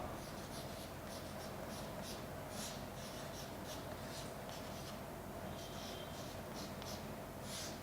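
Chalk or marker scratching across a board during a physics lesson, a faint, steady scraping in short strokes over a quiet room hiss.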